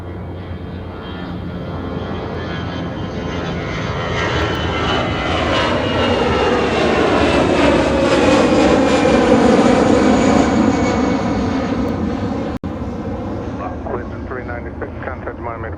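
Jet airliner taking off from runway 28R at Fort Lauderdale, a loud engine roar swelling toward a peak around the middle with sweeping tonal whine as it passes, then easing, alongside a brief sharp click.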